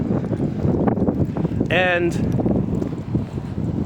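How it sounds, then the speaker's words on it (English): Gusty wind buffets the microphone in a loud, continuous low rumble, with a brief spoken word partway through. "The wind kicked up. Sorry about the wind."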